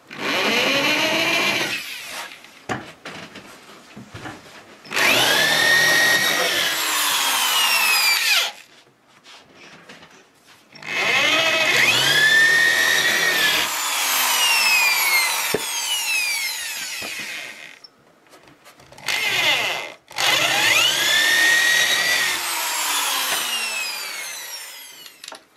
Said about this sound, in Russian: Теперь сверлим отверстие